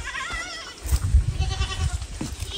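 Farm goats bleat close by, with one clear wavering bleat at the start followed by rustling and softer animal noises.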